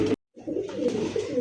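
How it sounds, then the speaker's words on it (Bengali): A pair of black Arabian cock pigeons cooing in soft, throaty, rolling murmurs up close after a brief clipped sound and a moment of silence, with no talking. "দেখতে পাচ্ছেন একজোড়া খুব সুন্দর ব্ল্যাক কালার মধ্যে অ্যারোবিয়ান কক কবুতর"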